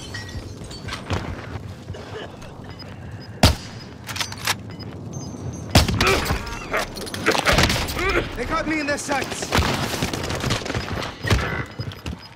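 Gunfire crackles in the Call of Duty: Modern Warfare battle royale, with sharp bursts and a loud volley partway through over a constant game backdrop, amid voice chatter and in-game callouts.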